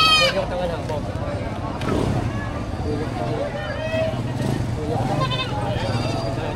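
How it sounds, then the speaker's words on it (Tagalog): A goat bleats several times at a cattle, goat and carabao market in Padre Garcia, Batangas. The wavering calls are moderately close, over steady crowd chatter, wind and people talking nearby. "Pinapakita ni Kuya na magandang kambing yung binebenta niya."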